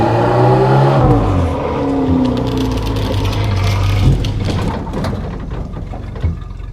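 A Renault 4L prototype car fitted with a performance brake kit drives along, its engine droning loudly and steadily, with shifting revs and gear changes throughout and no one speaking.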